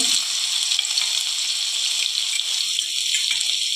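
A loud, steady sizzle of ground spice paste frying in hot oil with mustard seeds, close up and continuous, with faint stirring and no voices.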